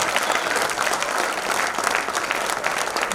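Dense, sustained applause from an audience at a Hindi kavi sammelan poetry gathering fills the hall, loud and steady throughout.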